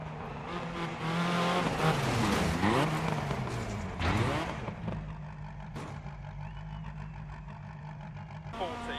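Car engine revving hard at high speed on a snowy rally stage in Dirt Rally, with rising and falling engine pitch, gear shifts and tire noise, loud and continuous while someone talks over it.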